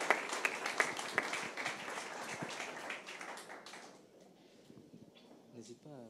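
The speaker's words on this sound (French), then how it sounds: "On peut applaudir, on peut applaudir." Audience applause at an award ceremony, a crowd clapping steadily for about four seconds before fading out, followed by quieter room sounds and a brief voice.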